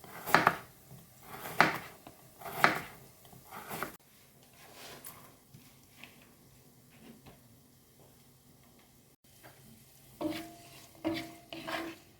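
Onion fries in a pan with a soft sizzle while a utensil knocks and scrapes against it several times, louder at the start and end.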